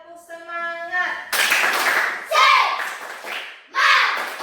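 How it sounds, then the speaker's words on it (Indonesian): A classroom of children claps out a rhythmic cheer together: a voice rings out first, then bursts of sharp, loud group clapping in short rhythmic runs, with children's voices mixed in. "Oke, tepuk semangat."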